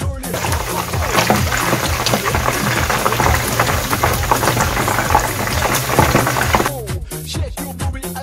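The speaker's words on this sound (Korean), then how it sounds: "양파, 대파, 고추 등을 먼저 튀겨서 야채 기름을 만들어줍니다" Onion, green onion and chili pepper fry in hot oil for a pork fry, a dense, steady crackling sizzle close up that runs loud throughout before cutting off near the end.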